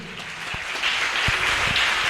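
A church congregation claps and cheers in broad, steady applause throughout, a continuous crowd wash with a few louder hand claps standing out near the start and middle.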